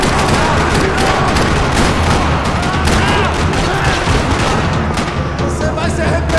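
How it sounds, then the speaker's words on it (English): Loud, dense bursts of rapid gunfire rattle continuously in a parking lot in the video game Max Payne 3, layered with booms and chaotic noise, like an intense firefight. "Another parking lot rattling with gunfire."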